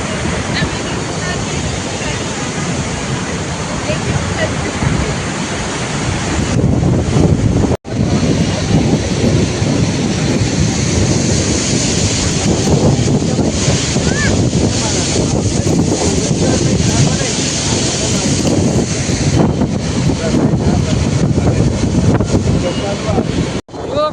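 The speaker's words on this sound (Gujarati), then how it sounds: "સિંગવડા નદીના પુલ ઉપર અત્યારે પાણી છે." Floodwater rushes over the Shingoda river bridge in Kodinar after days of steady rain, a loud, continuous roar mixed with heavy wind buffeting the microphone.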